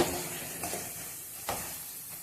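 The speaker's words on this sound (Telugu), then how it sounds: "ఇలా కలుపుకుంటూ ఫ్రై అయితే చేసుకోండి." Mango chutney frying on a low flame while being stirred, a soft, quiet sizzle broken by a few light scraping strokes, with no talking.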